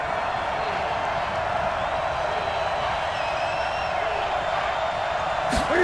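Dense, steady roar of a large football stadium crowd at a Carolina Panthers game, rising for a big play ahead of third down. It holds near-constant loudness throughout, with a brief sharp burst at the very end.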